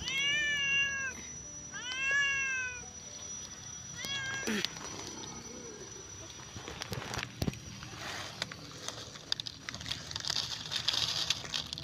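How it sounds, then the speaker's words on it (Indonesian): A hungry cat by a pile of rubbish meows repeatedly at close range, with three or four drawn-out, wavering cries early on, then quieter rustling and scattered clicks. "yang itu udah ngeong-ngeong nih"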